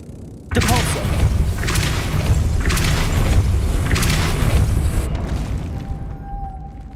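A Depulso force spell cast in Hogwarts Legacy, a sudden heavy boom followed by several seconds of loud rumbling, pulsing mechanical noise that fades into a quieter tone.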